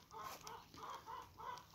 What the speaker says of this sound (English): And here is my rooster.